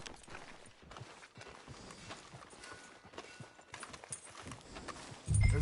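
Horse hooves clip-clop in a steady rhythm in a PS4 video game, moderately loud against quiet background ambience, with a heavy thump at the very end.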